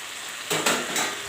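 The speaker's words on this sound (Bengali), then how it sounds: "আবারও আমি ঢাকাটা খুলে মাংসটাকে একটু নেড়ে নিচ্ছি।" Chicken curry meat gets stirred in a pan on the stove, a short burst of scraping and clattering over a soft background sizzle, close and fairly loud.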